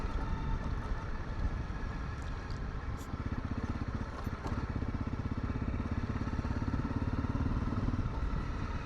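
A motorcycle engine hums steadily on a winding road climbing to a lookout in the South Australian bush, a continuous rider's-eye drone with wind roar and no talking.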